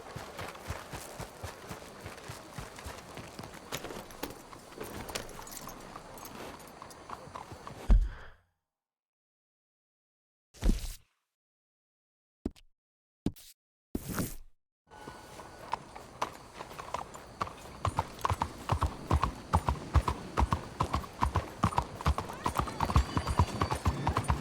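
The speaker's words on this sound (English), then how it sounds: "That's one good-looking horse you got there." A horse's hooves clip-clop at a steady walking rhythm, close and fairly loud, with a brief gap of near silence and short bursts before the hoofbeats resume, growing stronger toward the end.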